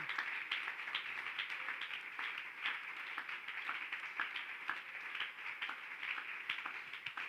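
A church congregation at an evening worship service applauds reverently: a soft, continuous patter of many hands, faint and distant, lasting several seconds with no speech on top.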